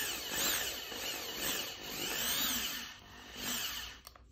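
Drill bit widening a tone hole in an instrument body, a close continuous whirring grind with wavering pitch over several seconds, stopping with a few small clicks at the end.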